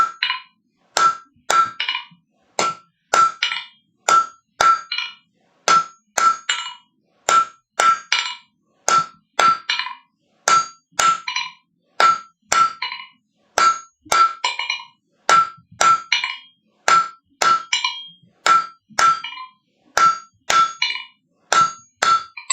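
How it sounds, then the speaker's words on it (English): Rounding hammer blows ring on hot metal as a blacksmith draws out stock, a steady run of loud, bright clangs in quick pairs and triplets, close by and without talk. "But I'm using a rounding hammer in this case."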